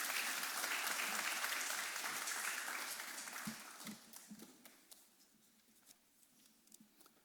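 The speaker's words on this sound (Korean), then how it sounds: "우리 목사님 박수로 맞이하도록 하겠습니다." A church congregation claps to welcome its senior pastor at a Sunday worship service, dense applause at first that thins into scattered claps and fades away.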